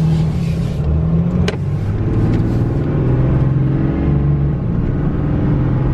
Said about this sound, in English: Definitely a whole lot more turbo noise than before.